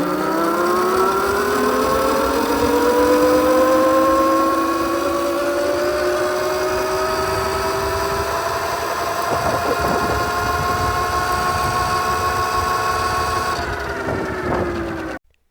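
A Heybike Villain 52V electric pit bike on a top speed run whines as its motor tone rises steadily, then holds a high, loud pitch and cuts off abruptly at the end.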